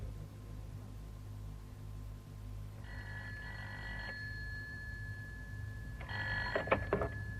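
A telephone rings twice in a radio drama sound effect, two sharp bursts of bell-like ringing over a steady low background hum, the second ring louder and closer.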